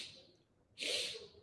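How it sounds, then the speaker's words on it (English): Short sniffing inhales through the nose during a yoga breathing exercise, soft and close, with a quiet airy sniff followed by a louder, longer sniff. "Then from here, inhale in 4 sniffs."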